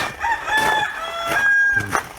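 A rooster crows nearby, a long strained call with a few rising and falling notes, loud and clear with no talking.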